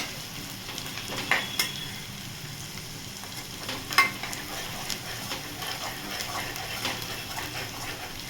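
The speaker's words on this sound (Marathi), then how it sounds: "आता हे लसूण आणि हिरवी मिरची ना छान परतून घ्यायची आहे" Garlic and green chilies sautéing in a pan give a steady, close sizzle. A few sharp utensil clicks and taps land throughout, and no one speaks.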